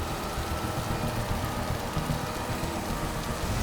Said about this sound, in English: I've never seen rain like this in Alberta